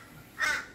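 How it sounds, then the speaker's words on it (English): A single short caw from a crow rings out at moderate distance over a quiet indoor background. "That's that noisy crow in the background."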